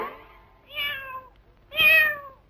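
A cat gives two clear, loud meows close by, a shorter one followed by a longer, rising and falling cry after a short pause, with no voices over them.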